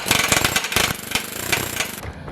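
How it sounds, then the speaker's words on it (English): An air hammer works on the sway bar of a Mk7 Golf R, giving rapid, loud, close metallic hammering bursts in a fast rattling rhythm that stop abruptly. "so I just learned how to use an air hammer today"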